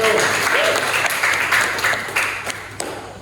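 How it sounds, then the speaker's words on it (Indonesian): Classroom applause for a student group after a presentation, a steady wash of many hands clapping at close range with brief louder claps near the end. "kita beri aplaus untuk kelompok 1"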